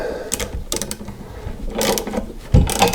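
Ratchet clicking in short bursts as nuts are tightened on the steering stem of a 1983 BMW R80ST during a steering head bearing replacement, close and fairly loud with several separate runs of clicks.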